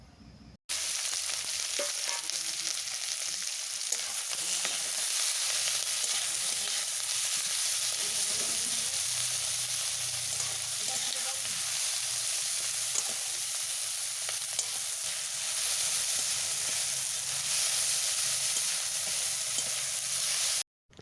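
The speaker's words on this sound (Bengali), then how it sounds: "এরপর চিংড়ি মাছ ভেজে নেব।" Prawns fry in hot oil in a kadai for an aloo posto dish, giving a continuous close, even sizzle that holds for about twenty seconds with no one speaking.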